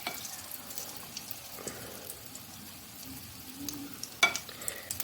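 Mung dal pakoras fry in hot oil, giving a soft continuous sizzle with scattered crackles and a sharper pop near the end, heard alone without talk.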